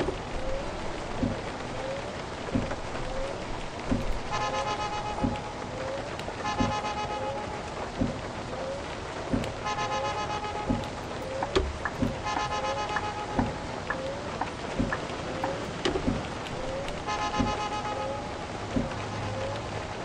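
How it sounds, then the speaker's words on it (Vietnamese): Heavy rain hisses continuously in the Minibus Simulator Vietnam video game, overlaid with a regular ticking rhythm and repeated short tonal chimes from the game vehicle. "kiểu mưa nó càng ngày nó càng lớn luôn các bạn"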